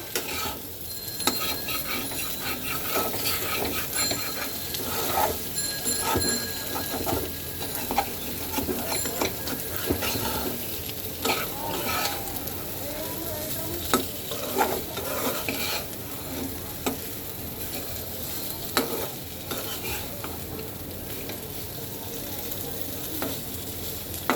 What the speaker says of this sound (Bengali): তো আলুটা এখন সুন্দর করে কষানো হোক